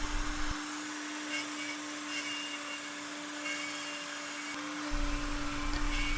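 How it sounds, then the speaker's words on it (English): A wood router on a PantoRouter jig cutting a Knapp joint, following a template with a guide bearing; a steady, loud motor whine with a constant tone runs throughout, close up and alone. "Take a light cut at full depth to establish the shoulder, then back the router out a bit to a partial cut and follow the template for the profile."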